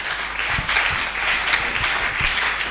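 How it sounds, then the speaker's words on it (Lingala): A church congregation at a Sunday service applauding, with steady sustained clapping from a crowd close by and faint voices mixed in. "Est-ce qu'on va acclamer Jésus?"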